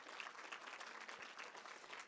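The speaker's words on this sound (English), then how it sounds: "give yourself a round of applause for the amount of work that you have done" Audience applause at a keynote, a steady dense wash of clapping from many hands that holds evenly for the whole stretch, fairly faint and with no voices over it.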